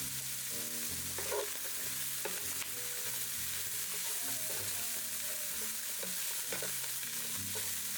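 Ground pork with carrots and bay leaf sizzles steadily in a pan, with occasional stirring scrapes and clicks, close and moderately quiet, no talk.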